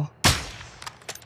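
A single sharp, loud gunshot in the video game Call of Duty DMZ, followed by fainter distant pops of gunfire.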